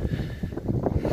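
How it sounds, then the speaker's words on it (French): Gusty wind buffets the microphone on a tiny beach, low rumbling bursts that rise and fall irregularly, fairly loud and close with no voices. "Désolé s'il y a un peu de vent."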